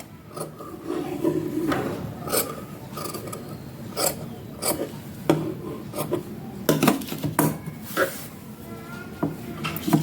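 Scissors cutting through stitched fabric for a 36-inch collar dress, a close series of irregular crisp snips and rasping rubs, some quick and clustered, with no talking.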